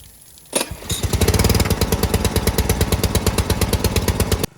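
A small yard-equipment engine starts up and idles with a steady, fast chugging beat while its carburetor fuel-air screw is adjusted, loud and close with no talking.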